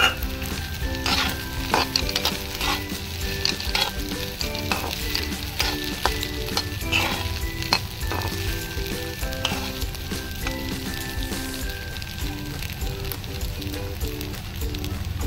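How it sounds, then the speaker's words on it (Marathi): Sago pearls are stirred into sautéed potatoes in a pan, making a steady sizzle and frying crackle with repeated scraping stir strokes throughout. "बटाटा परतून झालाय। आपण आता त्याच्यामध्ये साबुदाणे टाकूयात।"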